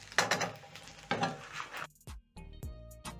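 Banana wedges being stirred with seasoned onions in a pan over a low flame, giving a soft sizzle with scraping and clinking of a utensil against the pan, in several bursts separated by brief pauses.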